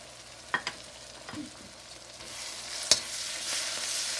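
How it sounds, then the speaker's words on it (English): Ginger garlic chili paste frying with onions in a pan: a quiet, steady sizzle with a few soft stirring scrapes and one sharp clink of a utensil against the pan. "I fried onions for 5 minutes. After 5 minutes, add ginger garlic chili paste."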